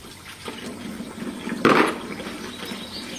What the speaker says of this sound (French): Façon originale de laver les couteaux.